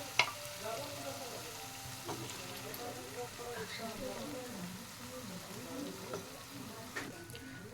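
Boiled rajma goes into a spiced masala frying in oil, a quiet steady sizzle with soft stirring scrapes and a sharp clatter at the start, while a voice speaks over it.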